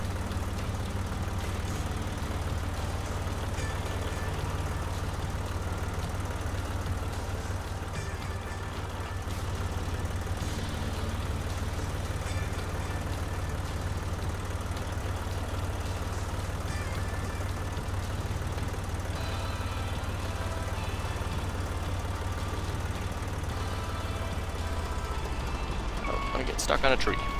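A tractor engine idles steadily while a bale is dumped in the video game Professional Farmer 2014, a low, constant hum with faint mechanical clanks near the end.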